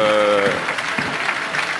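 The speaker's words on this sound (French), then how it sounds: "Et là, très applaudi." A crowd applauds the Indian army contingent at the Bastille Day military parade in Paris, steady distant clapping from spectators, with a brief tonal sound at the start.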